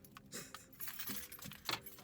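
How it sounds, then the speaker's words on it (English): A bunch of keys jangling close by in repeated shaking bursts, bright metallic clinks with no talk. "We have keys."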